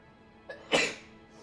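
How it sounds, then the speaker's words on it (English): A single sharp sneeze, preceded by a quick intake of breath, close by against a low steady background hum. "I needed to sneeze for some reason"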